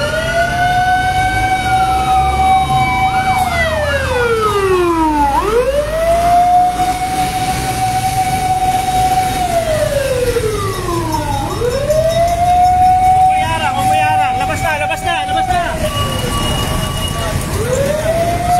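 Fire truck sirens wail loudly as the trucks leave a fire in Baseco, Manila, repeatedly rising and falling in long sweeps, with a steady rumble of engines and street noise underneath.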